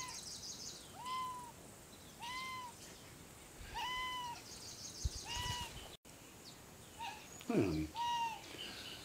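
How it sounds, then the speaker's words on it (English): A pet cat, the spotted Callie Spot, in a village house gives about six short, evenly spaced meows at close to moderate distance over a hissy background, with a brief human sound near the end. "Look at that pretty kitty"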